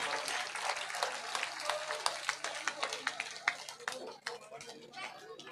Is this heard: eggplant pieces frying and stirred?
no